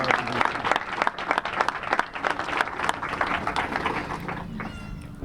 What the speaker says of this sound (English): Will all of you give a warm welcome to Jamisha Alexander